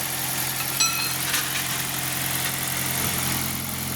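A car engine that has just been started idles steadily with a low, even hum and faint vibration, close by, with no talk over it.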